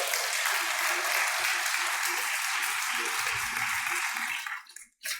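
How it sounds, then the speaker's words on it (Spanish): A church congregation applauds in a sustained, dense wash of clapping that holds steady and then cuts off near the end, with faint voices low underneath. "¿Cuánto le dan un aplauso al Señor?"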